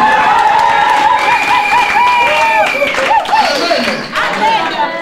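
Church congregation applauding and cheering the Lord, steady clapping and crowd noise with voices calling and ululating over it, fading slightly toward the end.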